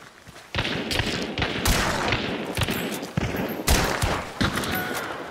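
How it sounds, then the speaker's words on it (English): Winfield rifle fire in the game Hunt: Showdown comes as a dense barrage of overlapping shots, loud and sustained, with sharp reports recurring throughout amid other distant gunfire. "Yeah, Winfield's shooting at the other side."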